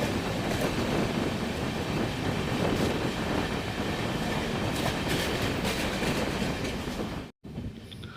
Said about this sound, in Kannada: ನಮ್ಮ ಟ್ರೈನ್ ಈಗ ಮದ್ದೂರು ರೈಲ್ವೆ ಸ್ಟೇಷನ್ಗೆ ಎಂಟ್ರಿ ಆಗ್ತಿದೆ